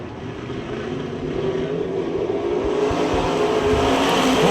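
Eight race cars lapping door to door through turns three and four of a speedway: a dense, roaring engine wash that swells steadily louder as the pack approaches.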